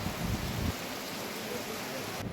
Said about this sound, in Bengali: আবার দেখুন বৃষ্টি নেমে গেছে, বেশ জোরেই বৃষ্টিটা হচ্ছে